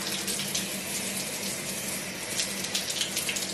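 A household tap runs steadily, filling a sink with warming water before a dog is bathed at home; a continuous close hiss and splash with no talk.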